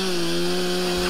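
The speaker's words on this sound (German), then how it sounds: "aber Nationalpark Ranger mit einer Kettensäge" A national park ranger's chainsaw runs at a steady high pitch, a loud continuous buzzing whine with no pauses, heard up close outdoors in a mountain park.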